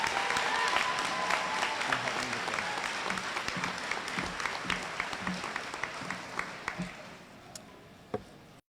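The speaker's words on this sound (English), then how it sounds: "Please give them a round of applause." An audience at an 8th grade promotion ceremony applauds students, a dense patter of many hands clapping that gradually thins out and fades over several seconds.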